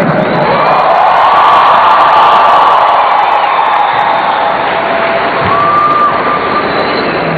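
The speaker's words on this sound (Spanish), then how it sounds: "Un aplauso grande a María Santísima." A concert crowd applauds and cheers in a dense, steady roar at a Catholic worship concert, as a song is dedicated to the Virgin Mary. The noise is loud and constant throughout.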